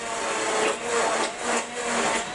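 A blender purees a thick, hot vegan bechamel sauce thinned with oat milk, its motor whirring steadily and swelling in rhythmic pulses as the mixture churns, loud and close with no talking.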